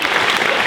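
Short burst of loud audience applause at a convention conference, dense crowd clapping filling the moment.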